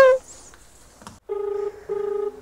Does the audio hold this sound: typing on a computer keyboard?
no